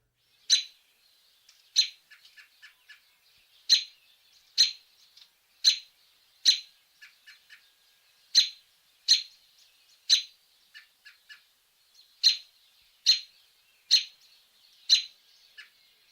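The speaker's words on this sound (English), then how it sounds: "The robin has a variety of typical call notes," American robin call notes, sharp high chirps repeated at irregular intervals, sometimes in quick clusters of soft pips, clear and isolated against silence.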